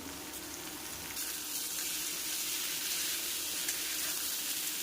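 A paste of tomato, green chili and ginger sautéing in a pan for a Bengali soybean curry with pumpkin and drumstick, a steady broadband sizzle that swells a little after the first second and keeps on evenly, close and moderately loud.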